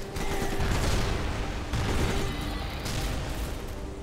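A bombing attack in Civilization Beyond Earth sounds as a dense, continuous barrage of booming blasts and rattling explosions, loud and unbroken for the whole stretch.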